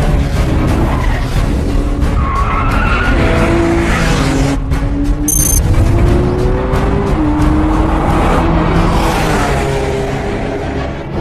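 A rear-engined supercar accelerates hard toward the red line, its engine note climbing in rising sweeps with quick, seamless gear shifts and a brief tire squeal, loud and close throughout.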